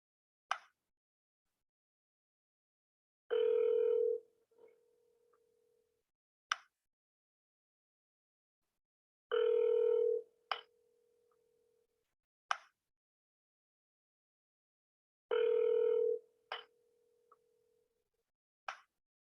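An unanswered phone call repeats a short cycle three times: a click, a long steady ringback tone, then another click, with silent gaps in between.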